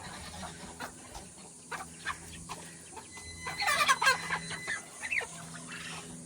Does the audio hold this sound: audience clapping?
no